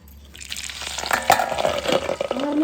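Betel leaf and curry leaves crackle and sizzle in hot homemade ghee, a bright frying hiss building after a quiet start with sharp pops and spits close by, no voices.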